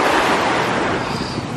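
Ocean surf washing onto a beach in Dubai, a steady broadband rush of breaking waves with some wind across the microphone, close and continuous with no voices.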